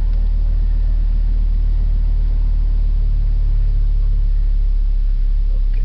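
A Ram truck engine running on wood gas from a gasifier gives a steady, loud low rumble that holds even throughout, close by, with no voices.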